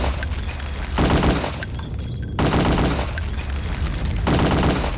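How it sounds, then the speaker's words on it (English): A Tommy gun fires in Return to Castle Wolfenstein, long rapid bursts of automatic fire separated by brief pauses, loud and close with no talk. "Let's finish him off with a Tommy gun"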